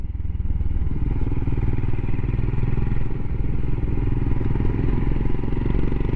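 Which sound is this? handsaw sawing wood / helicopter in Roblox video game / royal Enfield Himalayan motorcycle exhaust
royal Enfield Himalayan motorcycle exhaust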